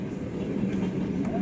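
A long Russian Railways freight train, cars said to carry petrol, rumbles steadily past a station with a continuous low rolling roar and faint wheel clatter, close and fairly loud.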